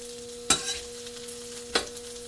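Chicken pieces sizzle on a Vevor 22-inch flat top griddle, a steady soft frying hiss broken by two sharp scraping turns of a spatula, with no talking.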